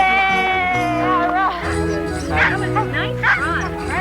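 Dogs in a family home give short, sharp barks and yips over the full four seconds, with a person talking at the same time.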